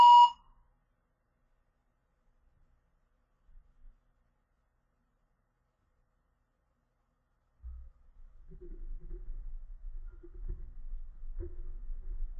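A single short electronic test beep sounds at the very start, signalling the beginning of preparation time, followed by near silence and then faint low background noise later on.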